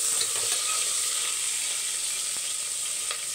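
Onions sauté in a pan with a steady, close sizzle, broken by a few faint clicks of stirring.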